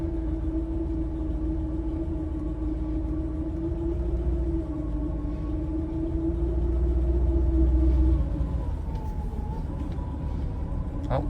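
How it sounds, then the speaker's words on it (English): A 1978 Mercedes-Benz 450 SL with a faulty transmission gives off a sustained, wavering mechanical whine over low engine rumble as it drives, the pitch shifting and dipping toward the end. "Really weird transmission noise."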